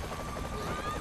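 Helicopter rotor drone from the video game Saints Row The Third, a steady churning engine noise running throughout under continuous talking.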